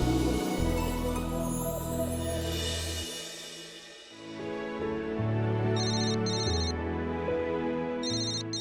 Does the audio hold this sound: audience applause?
no